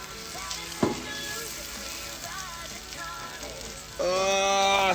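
Butterflied chicken sizzling in a pan as it is flipped, with a close, bright frying hiss, a sharp clatter early on and a louder burst of sizzle near the end.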